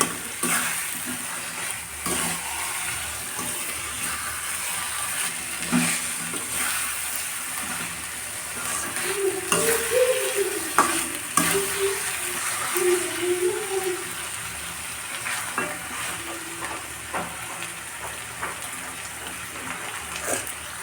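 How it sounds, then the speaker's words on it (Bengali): Chicken pieces stir-fried with spices in a pan, a steady sizzle with scraping and stirring strokes running throughout, close and fairly loud, no voices. "ভালো চিকেনগুলো দিয়ে আমি অনেক কিছুক্ষণ আবার মশলার সাথে কষিয়ে নেব।"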